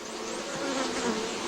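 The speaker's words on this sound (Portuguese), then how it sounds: "E é impressionante a dedicação dessas abelhas." Honey bees crowding a hive frame with royal cells, giving a dense, continuous close-up buzz that stays even throughout, alone without talk.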